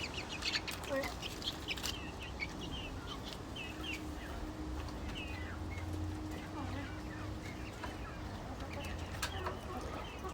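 Chickens cluck and chirp around a family home, a steady scatter of short calls over a continuous low background hum, with faint voices in the mix.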